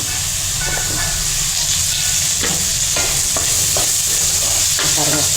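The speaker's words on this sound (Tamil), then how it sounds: "போட்ட நிமிஷத்தில் அந்த உருளைக்கிழங்கு எப்படி நல்லா ரோஸ்ட் ஆகி வந்துச்சுன்னு பாருங்கள்" Potatoes with their skins on frying and roasting in a pan, giving a steady close sizzle and hiss with intermittent stirring scrapes throughout.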